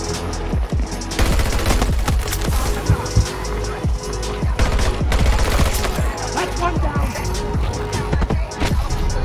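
Automatic MTAR-21 rifle fire in the shooter Battlefield 2042, sustained rattling bursts loud and close, broken by brief pauses and layered with other battlefield gunfire and impacts.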